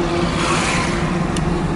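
Car moving slowly in first gear at night, a steady low engine drone with road rumble, close and even, with no voices over it.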